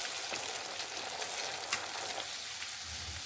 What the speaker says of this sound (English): You have to be on standby to observe it as it deep fries.